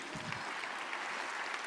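Soft audience applause at a design leadership talk, a short, quiet, even spatter of clapping heard from a distance.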